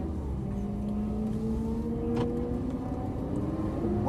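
A Lamborghini Gallardo LP550 engine pulls steadily under acceleration on a track, a loud, close, continuous rising drone with no speech.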